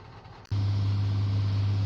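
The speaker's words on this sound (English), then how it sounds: "I hope you can hear me over the tractor." A tractor engine drones in Farming Simulator 19 while spreading fertilizer, a steady low hum that starts abruptly after a brief quieter moment and holds loud and constant.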